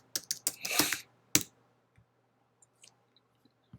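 Fingers tapping a computer keyboard in a quick burst of keystrokes, followed by a single key press and then scattered faint clicks in a quiet room.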